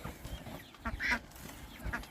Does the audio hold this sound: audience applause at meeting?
no